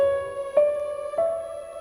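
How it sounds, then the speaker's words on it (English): A few sustained tones on a keyboard or synth-like instrument step through part of a Dorian mode with its raised sixth, three clear note changes ringing smoothly and fairly softly with no talking. "But Dorian has a major 6."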